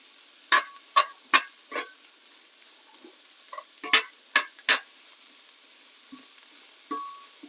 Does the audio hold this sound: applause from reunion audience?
no